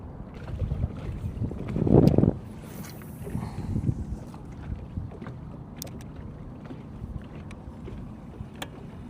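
A fast fishing motorboat passes on open water, its engine and hull wash swelling to a peak then fading away, followed by quieter lapping and faint knocks in the boat.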